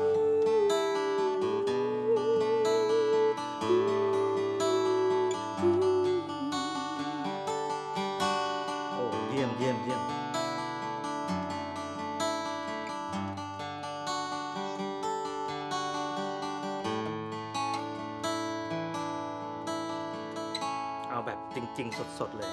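A Kazuki LITE D41 solid-top acoustic guitar is strummed and picked continuously, with chords and melodic lines ringing out, close and clear, with no talking over it.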